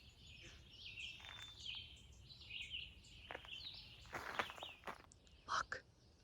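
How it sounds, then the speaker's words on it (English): Birds chirping and calling along a trail at a bird sanctuary, several thin high tweets scattered through quiet outdoor air, with soft footsteps and a faint whisper nearby. "There do seem to be a lot of birds here."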